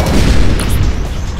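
A deep, loud boom from an explosion in the Breakout-style video game Ionball 2: Ionstorm, heavy low rumble swelling and decaying with a brief crackle of bursts.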